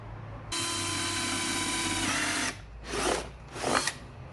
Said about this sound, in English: we're going to take our drill and we're going to drill straight through here